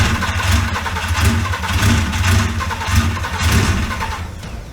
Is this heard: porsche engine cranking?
yes